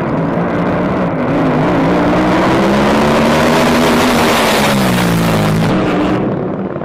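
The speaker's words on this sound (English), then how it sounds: "Wow, a nice shiny good looking speedboat." A shiny speedboat's engine roars loud and steady, its droning pitch rising and wavering slightly before easing off near the end.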